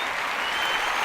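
A wrestling arena crowd of about 20,000 fans applauds and cheers, a dense, loud wash of clapping filling the whole moment with no pauses.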